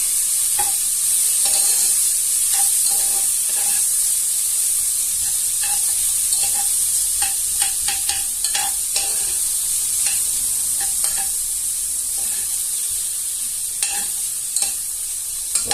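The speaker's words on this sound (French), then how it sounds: "on va faire revenir les oignons pendant à peu près 5 minutes" Onions fry in butter in a pan with a constant bright sizzle, punctuated by frequent soft scrapes and knocks of a utensil stirring, close and alone without talk.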